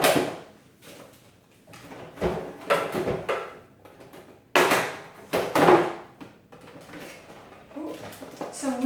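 A kitchen sweets drawer being slid open and shut, a few wooden knocks and sliding rubs spread across the stretch, close and fairly loud, with someone talking in between.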